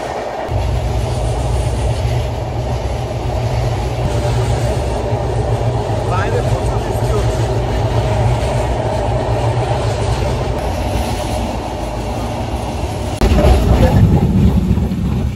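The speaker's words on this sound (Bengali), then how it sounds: "ফাইনালি গাইস পদ্মা সেতু পার হয়ে গেলাম প্রথমবারের মতো ট্রেনে।" Madhumati Express with LHB coaches crossing the Padma Bridge in rain, a steady loud rumble and rattle of the moving train that swells louder near the end, with a voice talking over it.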